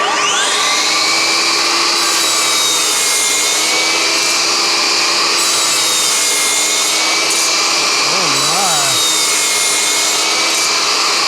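A shop vacuum pulls sawdust from a FLEX miter saw cutting wood, holding a steady loud whine with a constant hum for the whole stretch, plus a brief wavering tone near the end.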